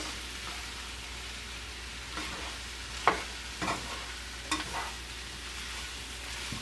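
Meat for a Philly cheesesteak sizzles steadily in a pan, with a few brief scraping stirs of a utensil breaking through the constant frying hiss.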